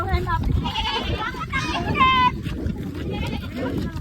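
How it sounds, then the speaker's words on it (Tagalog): Goat bleats several times in a rural province setting, mixed with children's and adults' excited voices talking over them throughout. "Ay, may kambing! Pakita may kambing!"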